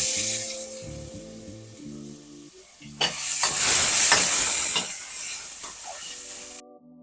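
Chopped onions hitting hot oil in a heated cooker, with a loud burst of sizzling and stirring that swells, holds for a couple of seconds and then eases off, with background music underneath.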